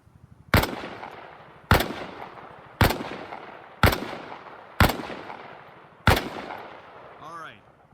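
Rifle fire in the military video game Arma Reforger on a training range, six loud, single close shots spaced about a second apart, each with a ringing decay and a short echo tail.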